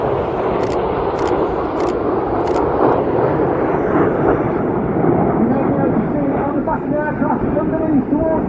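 Loud roar of a jet aircraft passing overhead at an airshow, a sustained rushing engine noise with a few sharp clicks at the start, air brakes out.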